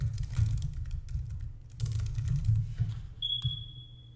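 Keys clatter on a computer keyboard as a search is typed, quick irregular taps in two bursts, close and clear, ending with a short electronic tone.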